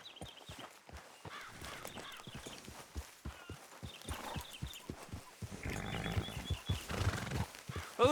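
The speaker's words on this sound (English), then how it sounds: "Grab your horse and let's go." Horse in Red Dead Redemption 2 whinnying while its hooves clip-clop in a steady walking rhythm, fairly close and clear throughout, with the neigh rising toward the end.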